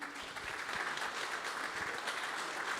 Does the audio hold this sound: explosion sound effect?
no